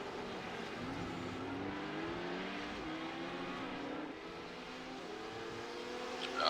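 A race car at Spa in a sim racing endurance championship holds a loud, continuous engine whine that climbs in pitch as it accelerates, with a gear change partway through and no talking.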